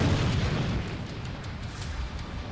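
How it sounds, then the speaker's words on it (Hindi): A Russian D-30 howitzer fires in Zaporizhzhia, a deep booming blast at the start that rolls off into a long, rumbling low decay. "जापोरिजिया में रूसी सैनिक यूक्रेनी पोस्ट पर D-30 हॉइट्जर से हमले कर रहे हैं।"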